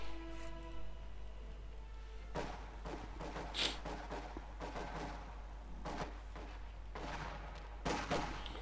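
Gunfire in Company of Heroes 2 during a 1v1 match rings out as several scattered sharp shots and bursts, fairly faint and distant, over a low steady background hum.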